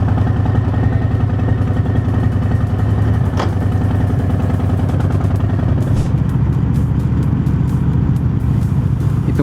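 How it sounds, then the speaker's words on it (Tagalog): A 2019 Harley-Davidson Heritage Classic with a 1,868 cc engine rumbles loud and close on a test drive, its deep throbbing pulse steady throughout, with a brief sharp click partway through. "Test drive natin, papakita ko sa inyo bakit ko naging paboritong bike itong 2019 Harley-Davidson Heritage Classic."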